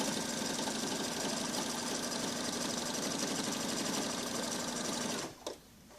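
A sewing machine stitches a hood onto a towel with a steady, close whirring hum for about five seconds, then stops abruptly.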